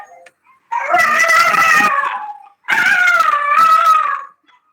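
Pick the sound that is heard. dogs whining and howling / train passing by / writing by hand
dogs whining and howling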